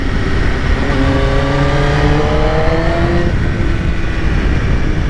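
A BMW S1000RR 200 hp sport motorcycle accelerates on a road, its engine note climbing steadily through the gears in a loud continuous roar with rising whine, then settling into a steady drone, close to the rider.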